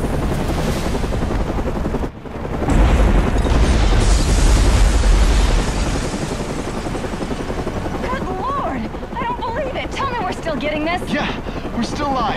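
Video game explosion blast in Batman: Arkham Origins, a deep booming rumble that swells and fades over a few seconds, followed by helicopter rotor and engine drone and game effects.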